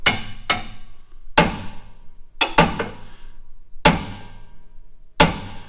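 Hammer blows beating a radius arm out on a 2022 Platinum truck during a coil-over lift install: six sharp, loud metallic strikes spaced irregularly, some in quick pairs, each ringing briefly before fading.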